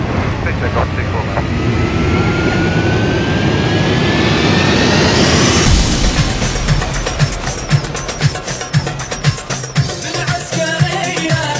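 A jet airliner on takeoff from runway 24 left, its engine roar building loud and steady with a rising whine, then shifting to a rougher rumble with repeated pulsing bursts as it powers away; voices can be heard underneath.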